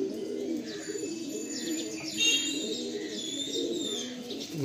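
Full loft pigeons coo softly in a low, repeated murmur, joined by a few faint chirps and brief flutters, with no talking over them.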